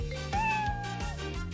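A cat meows once, a drawn-out, clear, tonal call that rises and then fades, close and distinct against a quiet indoor background with no talking.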